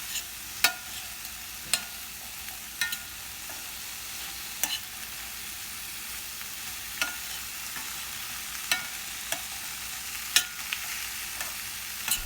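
Okra and halved garlic frying in a pan over medium flame, a soft continuous sizzle broken by sharp scraping clicks of a spoon stirring every second or so.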